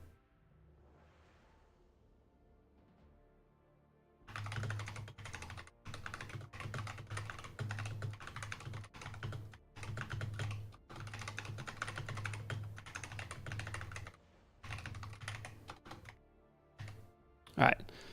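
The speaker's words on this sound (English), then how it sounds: "Can you hear my typing?" Typing on a computer keyboard in a streamer's home setup, steady bursts of clacking keystrokes with short pauses after a quiet opening, close and fairly loud, with a low hum underneath.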